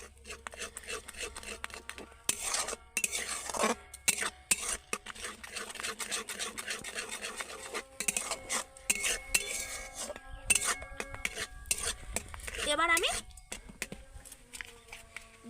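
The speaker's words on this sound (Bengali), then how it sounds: "এবার আমি আবারও ভালো করে একটু নাড়তে থাকবো এইভাবে" Spoon stirring a carrot mixture with soy sauce and tomato sauce in a pan, with irregular metallic scrapes and clinks against the pan, close and moderately loud, broken by short pauses.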